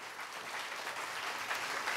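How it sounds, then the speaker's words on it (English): Audience applause for a singer, a steady dense wash of clapping from a crowd that holds at an even level for the whole stretch, with no voices over it. "How about a round of applause for her?"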